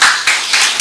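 Brief bursts of applause from a small gathered group at a pastor's birthday celebration, hands clapping in a steady patter that swells and dips over under a second.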